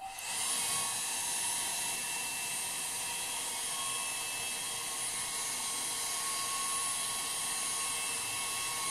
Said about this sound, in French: c'est l'instant sèche-cheveux.